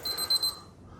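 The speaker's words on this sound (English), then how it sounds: "Some sort of weird beeping. Must be this. Ice warner." A beeping ice warning alarm inside an ex-fire command van camper conversion sounds as three or four quick, faint electronic beeps in a row, then stops.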